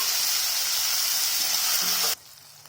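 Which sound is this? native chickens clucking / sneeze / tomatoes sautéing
tomatoes sautéing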